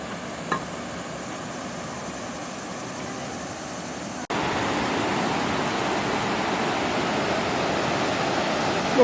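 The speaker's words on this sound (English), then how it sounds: "Waterfalls right in there." A waterfall in wooded state park land gives a steady broadband rush, fainter at first, then suddenly louder and fuller midway as it comes closer, with a brief knock near the start.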